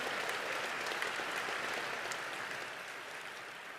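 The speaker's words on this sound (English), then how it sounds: "please applaud Yijia" An audience at a graduation ceremony applauds steadily, a dense wash of clapping in a large hall that slowly eases in volume.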